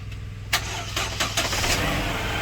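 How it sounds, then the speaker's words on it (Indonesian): A Chevrolet Captiva petrol car with a manual gearbox, suffering heavy pull and sputtering, is started: loud starter cranking with a few sharp bursts catches into a steady engine rumble, heard close up. "Yuk, kita start mobilnya."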